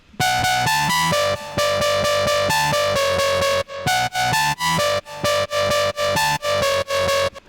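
A bright bass house synthesizer lead plays a choppy, rhythmic melody of short sustained notes, loud and clear with no voices.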